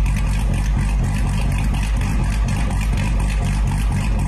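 A Chevrolet Corvette C8 engine rumbles loudly and steadily while driving, a deep continuous drone with slight fluctuations in revs and no talking over it.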